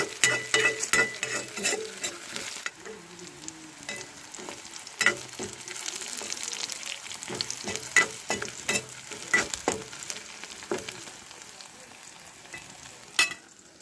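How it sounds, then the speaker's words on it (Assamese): Onions frying and being stirred in a pan in a home kitchen, a steady close sizzle with repeated scraping strokes of a spoon throughout, no talking. "তো এয়া এতিয়া পিঁয়াজ দি ভাজিছোঁ"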